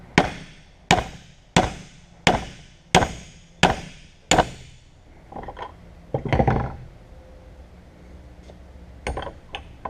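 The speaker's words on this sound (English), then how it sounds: "I have this brass hammer, fairly large brass hammer" A large brass hammer strikes a shaft held snug in a vise on an IH 1066 tractor, with seven loud, evenly spaced metallic blows followed by softer, scattered knocks and scraping.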